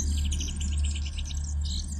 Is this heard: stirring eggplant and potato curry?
no